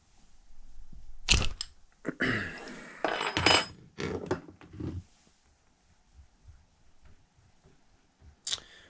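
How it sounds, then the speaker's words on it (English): A 17mm socket and wrench break loose the top fork nuts at the rebound adjuster on a 2007–2012 Honda CBR600RR. Sharp metallic clanks and scraping bursts come up close in the first five seconds, then quiet, with one final clink. "Then we're going to take our 17mm socket to the top to the rebound adjustment, and we're simply going to break these loose."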